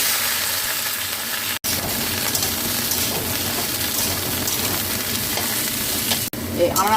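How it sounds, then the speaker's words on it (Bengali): Chopped vegetables shallow frying in oil, a loud, close, unbroken crackling sizzle that fills the whole stretch, with two brief sudden dropouts and faint stirring underneath. "আনাজগুলো ভেজে নিচ্ছি।"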